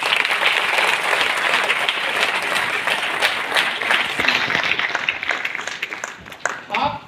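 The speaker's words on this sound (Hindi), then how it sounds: "तालियां हो जाए" Audience applause in a hall, a dense burst of clapping from a crowd that keeps going and gradually thins toward the end, with a voice briefly heard under it.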